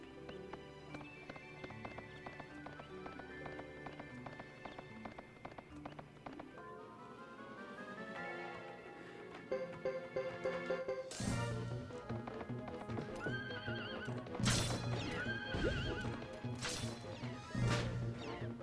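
Horses from the Zex knights gallop in the PlayStation 2 game Suikoden III, hooves clattering over layered game music, with a whinny and crash-like bursts standing out loudly in the second half.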